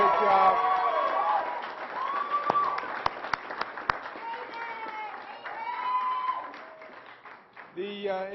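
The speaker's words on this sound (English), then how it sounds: "Let's give a big round of applause to the men and women of law enforcement who have done a great job." Applause at a state police news conference, a broad wash of clapping from the room with a few sharp louder claps standing out, tapering off toward the end.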